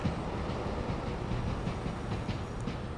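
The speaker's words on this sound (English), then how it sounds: "Train just left." A train pulls away in the Train Sim World 5 simulation, an Avanti West Coast service on the West Coast Main Line between Preston and Carlisle. A steady low rumble of rolling stock runs throughout with faint rail clatter and no talk.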